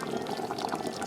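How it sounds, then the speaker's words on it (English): Water pours steadily into a pot of bean stew that is already simmering, a continuous close splashing gush that fills the whole moment without a break. "I will be adding a little bit more water"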